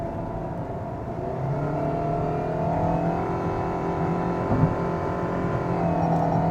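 A 2022 Perodua Myvi accelerates from inside the cabin, its engine droning steadily with a slowly rising rev note and a constant rumble, heard alone.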